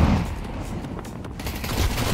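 Counter-Strike 2 gunfire rattles in a quick burst of overlapping shots, loud and close, over a short stretch with constant background game noise.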